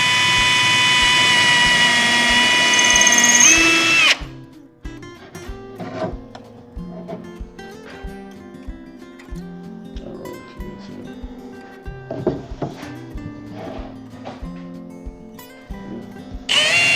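A power drill bores a hole through a vintage wooden table, a short loud whir at the start followed by a long stretch of softer, intermittent mechanical knocks and clicks from handling the tool and workpiece.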